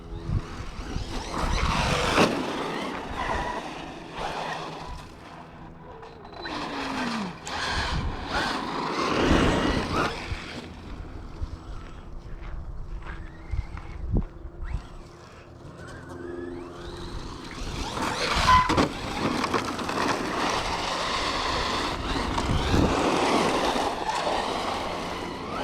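An Arrma Mojave 4S RC truck with a Firma 150 motor on HV LiPo drives in bursts, its whining motor surging and fading with gritty rushes of terrain noise, near then farther, for about twenty-five seconds without talk.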